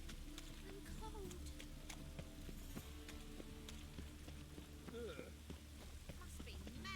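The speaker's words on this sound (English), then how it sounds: "Must be mad running around in this rain." Steady rain patters on surfaces across an outdoor scene in The Witcher 3: Wild Hunt, with scattered droplet ticks and faint horse hoof clops and voices mixed in under the constant wash.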